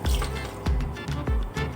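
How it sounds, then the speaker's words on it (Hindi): Tamarind water poured into a simmering fish curry with coconut, giving wet squishing and trickling splashes in a few short bursts, close and fairly loud with no talk. "ये मैं डालूंगी पानी, इमली का पानी है"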